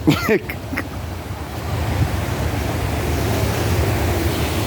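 A waterfall in Tradewinds Park in south Florida gives a broad, rushing roar that swells after a brief sharp sound at the start and then holds steady and fairly loud.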